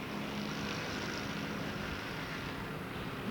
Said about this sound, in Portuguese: esse barulhinho maravilhoso que vocês estão sentindo aí, de moto, de carro, de freada